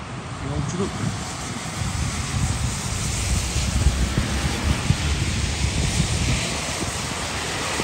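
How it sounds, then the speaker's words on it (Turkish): Heavy rain pours down outdoors, a dense, steady hiss with low rumbling wind noise throughout, loud and close, while people talk over it. "Bayağı da yağmur yağıyor ya."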